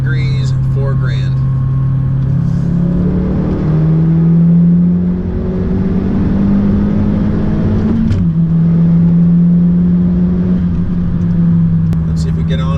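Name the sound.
car accelerating in third gear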